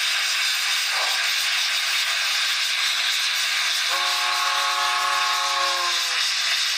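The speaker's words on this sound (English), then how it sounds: "that was a pop valve. There you heard the whistle stop signal." A loud, steady hiss of venting steam from a model PRR M1 steam locomotive's pop valve runs throughout, joined partway by a sustained multi-tone steam whistle that sounds for about two seconds.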